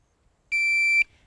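A shooting shot timer gives a single sharp electronic start beep, about half a second long, clear and alone in a quiet setting.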